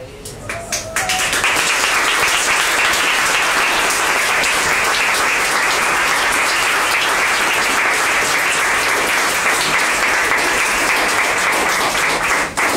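After a brief moment of a voice, an audience at a lecture bursts into loud, dense, sustained applause for Anita that carries on evenly for over ten seconds before cutting off.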